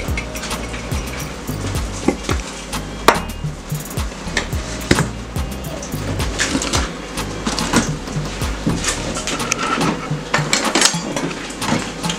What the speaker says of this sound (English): So we're gonna give it a good mix